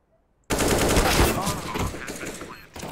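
Pistol gunfire in a Counter-Strike match on FACEIT: after a moment of near silence, a loud, dense burst of rapid shots erupts and carries on, echoing up close for over two seconds.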